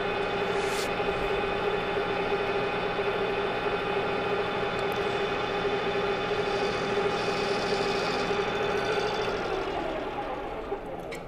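Manual metal lathe turning a steel shaft to size with a light finishing cut, a steady motor hum with tonal whine running throughout, close and alone.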